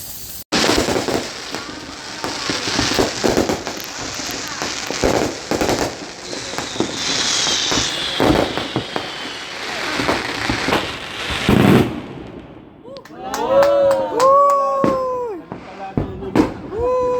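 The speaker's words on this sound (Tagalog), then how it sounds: "Paputok pala yung doon." Fourth of July fireworks crackle and pop continuously at a distance, then car alarms start wailing in rising and falling tones.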